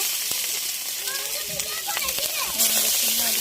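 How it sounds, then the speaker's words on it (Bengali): Cauliflower, beans and potato frying on a clay stove, a continuous loud sizzle running the whole time, with a voice talking over it and children faintly in the background. "এখন মা ভেজে নিচ্ছে মাটির চুলায় রান্না প্রতিদিনের মতো"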